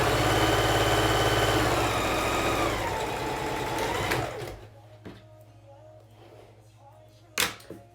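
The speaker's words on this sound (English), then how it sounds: "we're going to sew right along that edge as close as possible" A sewing machine stitches along the pressed edge of a fabric face mask, a loud continuous whirring run that winds down and stops, followed by quieter handling noises and a sharp click near the end.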